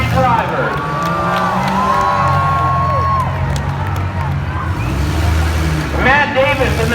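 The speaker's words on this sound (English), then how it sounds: "how about a big round of applause for these 3 drivers?" A demolition derby crowd at a county fair cheers and claps for the drivers, a broad roar under an announcer's amplified voice, with engine rumble steady in the background.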